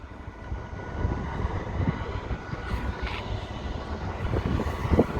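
Two Class 66 diesel freight locomotives pass near Peterborough with a steady, low diesel rumble and drone that swells slightly as they go by.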